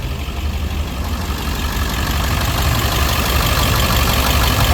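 A 2000 International 4700 semi-tractor with a T444E engine idles after long storage and very low use. Its steady, loud rumble carries evenly, with a dense broadband drone and no talk.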